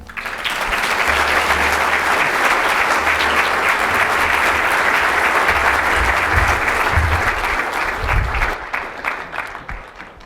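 A large luncheon audience breaks into sustained, loud applause that swells quickly, holds steady for several seconds and then thins out toward the end.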